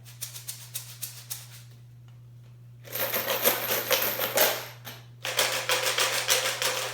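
Three homemade shakers rattle one after another: first sparse crisp ticks, then a dense gritty shake, then another bright rattling burst, each with its own tone.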